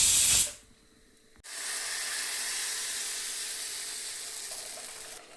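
Appam steaming in a cooker, a steady broad hiss of escaping steam holding for several seconds after a brief loud burst and short pause, close and even.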